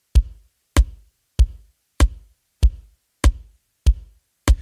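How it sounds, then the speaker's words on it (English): A can of almonds struck with a marker eraser and EQ'd to resemble a snare, hit eight times in a steady, evenly spaced beat, each a sharp close crack with a quick decay and silence between hits. "we got it sounding a little closer to a snare drum sound like this."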